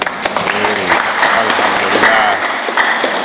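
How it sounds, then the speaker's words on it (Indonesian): Applause for the winners at a scout district gathering, a steady crowd of clapping hands that fills the whole stretch at a fairly loud level, with voices mixed in over it. "Tepuk tangan."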